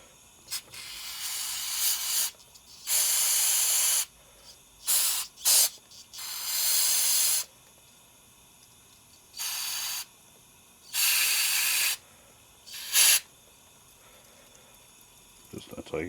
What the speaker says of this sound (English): I just use this little plastic, some carb clean